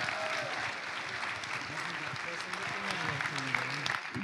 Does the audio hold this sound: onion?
no